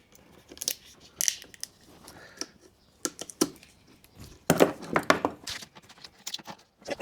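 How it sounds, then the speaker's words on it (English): Conduit cut clean over suspension air lines during an Airbag Man suspension install on a Landcruiser 250 Prado: sharp, close snips and clicks, scattered and then clustered, with no talk. "Just going to put our conduit over that last little bit, cut it clean."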